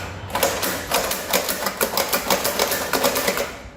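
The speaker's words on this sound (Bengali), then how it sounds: "এই ছোট্ট মেশিন যেটা হাত দিয়ে আপনারা নিজেই এখানে চাপ দিবেন, এই যে" A small hand-operated corn seed planting machine is pressed by hand, producing a steady run of quick, close mechanical clacks and rattles at a fairly even rhythm.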